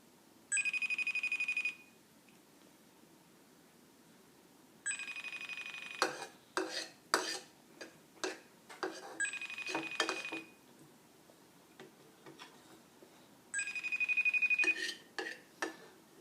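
A phone rings in four bursts of repeated electronic ringing, each lasting about a second, while a call is placed to an uncle in Korea. Light clatter and tapping fill the gaps between rings, with no talk.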